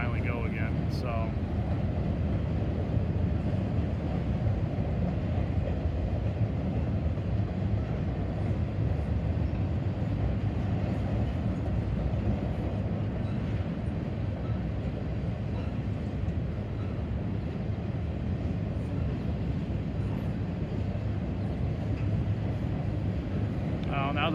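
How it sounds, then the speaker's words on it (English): An intermodal freight train picks up speed on the line at Oak Harbor, a broad, loud, continuous rumble that holds steady throughout, with a faint high squeal near the start and again near the end. "the intermodal, he got the green to go down below, so he's starting to pick up speed"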